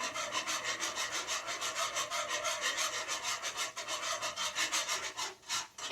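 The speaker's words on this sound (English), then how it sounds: "Keep whisking this though, keep whisking it." A whisk stirs homemade mac and cheese sauce in a pot, the wire scraping in a fast, steady rhythm up close, continuous and fairly loud with no voices over it.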